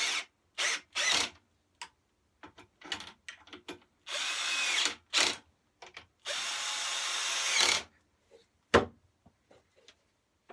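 A power drill tightens the carburetor bolts on a Briggs and Stratton engine of a Rover commercial mower, firing in short loud whirring bursts with longer runs between pauses, close up and with no talking.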